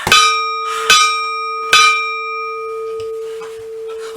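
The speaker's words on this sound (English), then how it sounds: "he rang the bell to awake the ship" A ship's bell rung by a watchman at night to wake the crew: three loud metallic clangs in quick succession, each leaving a long ringing tone that fades, with no voices.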